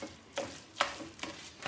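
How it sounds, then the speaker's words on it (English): Potatoes stirred in a pan give four rhythmic scraping, sizzling strokes, each a short, soft burst, heard close with no voices. "give a quick stir to help the potatoes start to break down"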